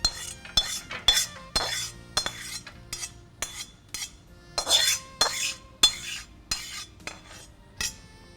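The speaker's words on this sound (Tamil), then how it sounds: "அந்த முந்திரி வறுத்தது போதும், இதை அந்த ட்ரேயில் கொட்டிடுறேன்" Lightly roasted cashews tumble from a pan into a tray in a series of sharp, clattering bursts, each pour rattling briefly against metal, then pausing before the next, close and fairly quiet.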